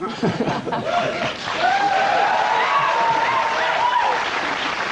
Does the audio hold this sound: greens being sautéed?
no